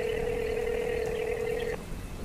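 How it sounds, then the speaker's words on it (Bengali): A telephone gives a single steady electronic tone that holds for nearly two seconds and then cuts off abruptly, leaving faint background hiss. "মধু কাকিমাকে ফোন করে জানিয়ে দিয়েছে সে কথা।"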